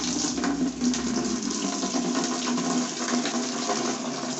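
Water pours steadily into a container holding about a spoonful of foaming agent, a continuous rushing, splashing stream that stays loud and even throughout without pause.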